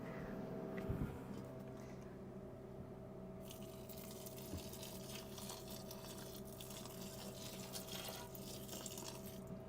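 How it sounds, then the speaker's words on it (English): Water drizzles steadily over dry coir peat inside a compost toilet, a faint, continuous soft trickle and gush that runs throughout and grows slightly brighter partway through, accompanied by a low steady hum. "I'm literally just going to drizzle it in over the core peat just so we can get it wet."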